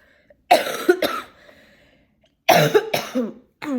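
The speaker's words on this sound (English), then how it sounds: "So I'm still getting over this cough." Two bursts of harsh, raspy coughing close to the mic, each with a couple of rough hacks, separated by a short quiet pause.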